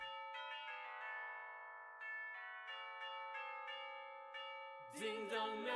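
A church-style bell chimes repeatedly in a steady, ringing sequence with long sustained tones, clear and fairly loud, before a louder burst of sound near the end.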